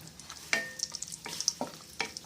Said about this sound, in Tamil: முந்திரி பருப்பு கொஞ்சம் வறுத்துக்கிட்டு கிறிஸ்மஸ் பழம் போடுறோம் காஞ்ச திராட்சை